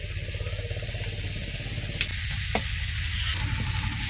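Garlic and chili powder frying in oil, a loud, steady sizzle with stirring scrapes throughout and a couple of sharp utensil clicks near the middle.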